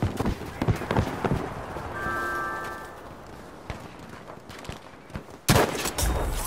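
Gunfire in the Battlefield V shooter game: scattered sharp shots and bursts with a brief tonal beep midway and a louder crack of shots near the end, over busy game ambience.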